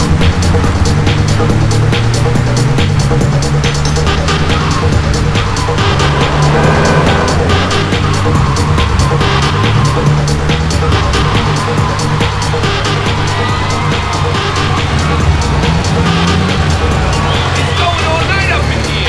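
A car engine runs steadily in Grand Theft Auto III on PlayStation 2, a loud, constant rumbling drone with shifting revs, heard under overlapping game voices and background noise.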